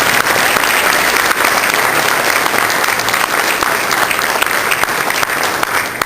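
Sustained, dense applause from an audience for the color guard at a high school Air Force JROTC ball fills the room at an even level throughout.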